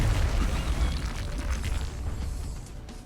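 Sustained roaring burst of fire from an attack in XCOM: Enemy Within, a loud, dense whooshing blast that holds steady for a few seconds before tapering slightly, with no talk over it.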